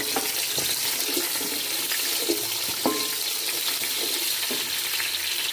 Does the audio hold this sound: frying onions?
yes